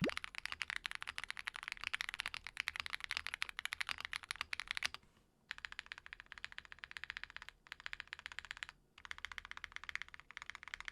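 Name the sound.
typing on Akko MOD007 PC keyboard with Prelude piano switches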